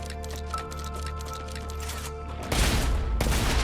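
Shotgun blasts in the sci-fi survival game StarRupture, fired against a swarm of bugs: a loud, sustained burst of booming noise over a humming game soundscape with tonal lines, with no talk.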